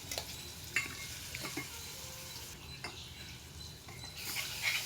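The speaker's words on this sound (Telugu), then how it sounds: "ఈ నూనెలో మసాలా మొత్తం బాగా మిక్స్ అయ్యి ఇందులో పచ్చిదనం పోయేంత వరకు మీడియం ఫ్లేమ్లో బాగా ఫ్రై చేసుకోవాలి." Mixed garlic masala paste fries in oil in a pan over medium flame, giving a steady close sizzle with scraping stirs and occasional clinks of the utensil.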